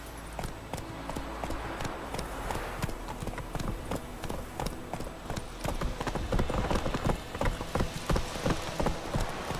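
Hooves of the horse Roach in the video game The Witcher 3, heard as a rapid, continuous clip-clop of trotting on hard ground, close and steady throughout.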